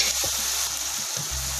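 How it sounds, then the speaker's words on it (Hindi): Biryani spices (salt, chili, turmeric and biryani masala) frying over medium heat for vegetable dum biryani, giving a close, steady sizzle with brief stirring scrapes and no voices. "अब हम दरमियानी आंच पे मसाले को अच्छे से भून लेंगे।"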